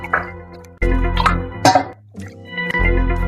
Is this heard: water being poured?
yes